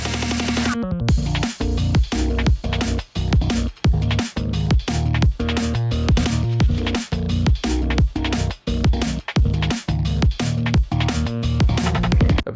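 A drum and bass drop built from synths in Vital plays loud and dense, with punchy drum hits and heavy bass pulsing in a fast, steady rhythm, with no talking.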